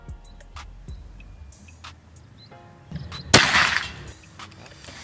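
A single sharp, close crack of a PCP air rifle shot, a Predator Escobar Gen 2, rings out near the end, after a few seconds of quiet background ticks and rustles.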